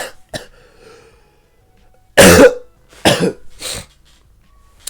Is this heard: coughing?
yes